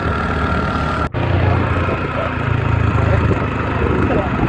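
A motorcycle engine idling and running steadily up close, a constant mid-pitched rumble with a brief dropout near the start, then a continuous throaty drone with slight revving swells.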